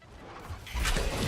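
A flashbang grenade goes off in the tactical shooter Rainbow Six Siege: a sudden, loud broadband bang partway through that stays harsh and sustained after a quieter lead-in, heard up close.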